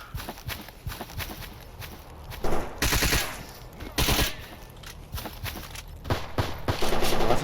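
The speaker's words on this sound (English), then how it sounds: "Oh, that's a suppressed AK." Suppressed AK rifle fire in the video game S.T.A.L.K.E.R. Anomaly comes as several short bursts of muffled cracks over a busy background of footsteps and ambient game noise.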